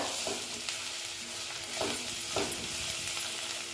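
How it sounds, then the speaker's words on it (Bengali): Spice paste with turmeric sizzles steadily in a hot pan for a fish curry, with a few soft scrapes and stirs breaking through the continuous frying hiss. "তারপরে দিচ্ছি হলুদ দিয়ে এবার আমি একটু ভেজে নিচ্ছি"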